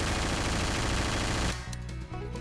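Dense automatic gunfire from a weapon in the video game Garry's Mod, a loud continuous burst that cuts off abruptly partway through, followed by quieter scattered game sounds.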